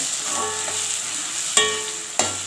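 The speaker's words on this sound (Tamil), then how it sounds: "நம்ம துருவி வச்சுருக்கிற அந்த இஞ்சி சேர்த்துக்கலாங்க அதில் நல்லா அந்த எண்ணெயிலே நல்லா வதக்கி விடணும்" Grated mango ginger sautés in hot oil in a pan for pickle, a close, steady sizzle with two sharp clinks of a stirring spoon against the pan.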